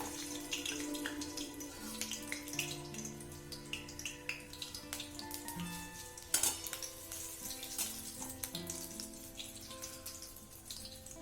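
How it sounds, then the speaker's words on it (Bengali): Potatoes sizzle quietly in hot mustard oil in a kadai, a faint steady crackle broken by small pops and a few clinks of utensils, with no talking. "তেলটা গরম হয়ে গেছে, আমি প্রথমে এই আলুগুলো ভেজে নেব"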